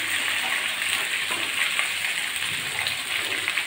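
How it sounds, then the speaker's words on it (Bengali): Jackfruit seeds with pumpkin and potato fry in a pan with a pinch of salt, a steady, loud, dense sizzle crackling continuously up close. "একটু ভেজে নেব।"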